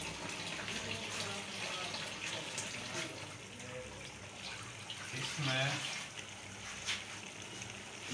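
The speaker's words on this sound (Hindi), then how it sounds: "पानी डाल देंगे" Water is poured into a cooking pot of beef paya in a kitchen, a steady quiet splashing and trickling that runs throughout, with a person speaking briefly over it.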